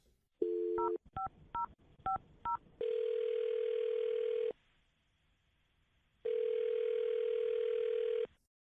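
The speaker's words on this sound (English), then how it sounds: "we're going to dial her number right now" A telephone line with a short run of touch-tone dialing beeps, followed by two long steady dial or ringback tones separated by a quiet gap, clear and close with no talk.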